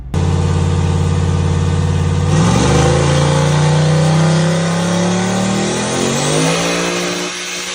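A turbocharged 5.3 engine in a Mustang roars hard on a dyno, revving steadily upward, loud and close, with a strong whining drone that climbs in pitch before easing off at the end.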